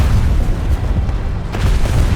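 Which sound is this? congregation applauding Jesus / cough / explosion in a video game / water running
explosion in a video game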